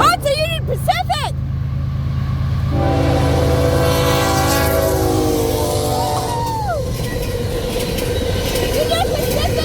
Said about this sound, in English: Oh, it's a Union Pacific!